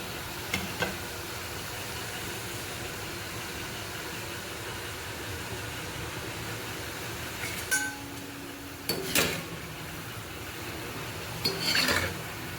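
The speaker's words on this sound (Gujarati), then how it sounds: "એટલે હું નાખી દઉં છું તળવા માટે. મસ્ત સરસ કુરકુરે જેવા કડક કડક તળવાના." Wheat-flour snack pieces fry in hot oil with a steady hiss and bubbling that runs through the whole stretch, broken by a few clinks and stirring knocks from a pan or utensil, with no voices.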